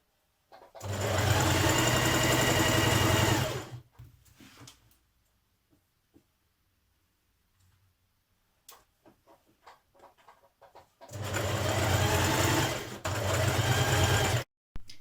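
A sewing machine top-stitches the pressed, pinned facing of a Burda 6240 summer dress from the right side, in two loud, steady runs of a few seconds each, with quiet fabric handling between them.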